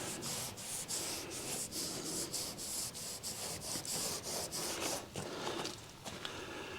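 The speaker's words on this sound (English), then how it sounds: "now I am wiping it on, and it seems, and I need a different rag" A rag rubs product by hand across the body of a 1977 Trans Am in steady back-and-forth strokes. The soft, continuous rubbing and wiping is close and even, with no talking.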